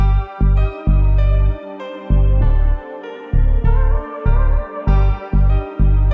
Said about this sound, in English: They also included this 808 kind of bass thing as well that sounds like this.